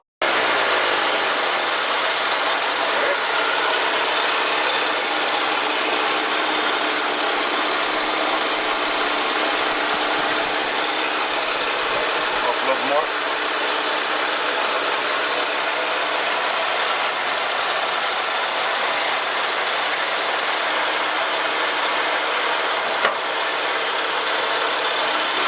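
A Ford F-100 with a carbureted engine idles steadily during timing adjustment, a continuous close mechanical hum with slight puttering unevenness and no talking.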